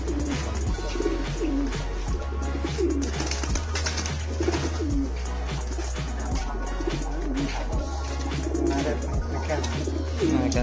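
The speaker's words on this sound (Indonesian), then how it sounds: "di sini koleksinya merpati kolong bebas semua ya teman-teman" Pigeons coo repeatedly in a steady, layered chorus in a pigeon loft in Pekalongan, with a low constant hum and some rustling beneath the birds.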